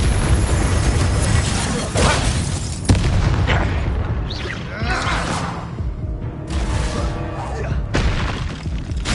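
A Confringo explosion spell goes off in the Hogwarts Legacy game, a loud booming blast with crackling debris among other spell effects and game noise, while a voice calls out spell names.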